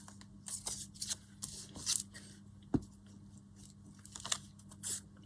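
Nearly dry craft pieces being peeled up by hand, giving a series of close, crisp crackling and tearing bursts in irregular rhythm, with a brief sharp tap midway, otherwise fairly quiet.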